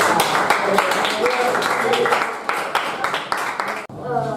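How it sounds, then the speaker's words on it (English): A class claps and applauds for its first volunteer presenter in an English lesson, a dense stretch of many hands over a murmur of voices, breaking off near the end as talk takes over. "please give applause for our first volunteer"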